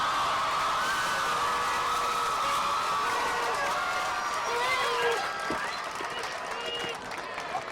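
Graduation ceremony crowd in a large hall applauding and cheering for families, friends and teachers, sustained dense clapping mixed with whoops and crowd voices, slowly easing off toward the end.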